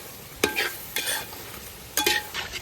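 Kerala duck roast with coconut pieces being stirred in a pan, with three distinct scraping strokes over a steady low sizzle, close and clear with no talking.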